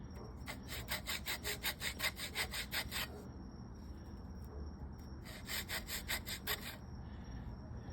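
A wooden self nock primitive arrow has a bevel cut into its nock with short hand strokes: two bursts of quick, rhythmic rasping saw pulls, close up, over a steady low hiss.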